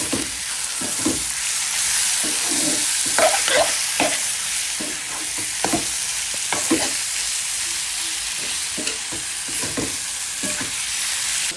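Red amaranth leaves fry in a pan with a steady hiss, broken by repeated scraping and clacking strokes of a spatula as they are stirred, close and continuous with no talking.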